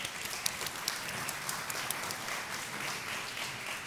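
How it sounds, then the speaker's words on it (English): An audience applauds a speaker at a food-industry fireside chat, clapping with scattered sharp claps over a steady hiss, moderately loud and continuing for a few seconds. "Please give her a round of applause"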